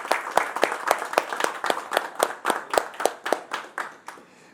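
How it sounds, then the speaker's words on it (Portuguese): Audience applause for Marcelo Borges at a presentation event: a small group clapping in a quick, irregular rhythm of sharp hand claps, fairly close and steady before fading out at the end. "Uma salva de palmas aí para o Marcelo."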